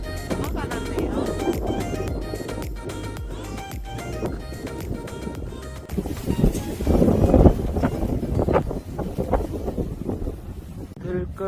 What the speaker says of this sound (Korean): 바람 많이 불어서